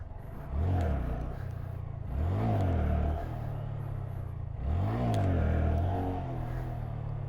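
Honda Grom motorcycle engine revving hard during wheelies, three rising-and-falling revs in a rhythmic pattern, loud and close with an idle rumble between them.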